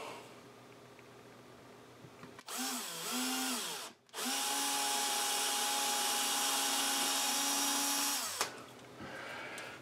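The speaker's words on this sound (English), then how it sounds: "Give it a drill." A power drill whirs up to speed in two bursts, whining steadily as it bores a hole for an under-desk tablet mount, then stops; close and loud.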